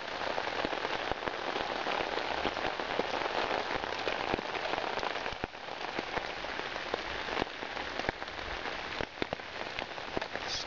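Rain falls steadily outdoors, a dense patter of drops hitting surfaces close to the microphone, continuous and fairly loud with scattered sharper taps.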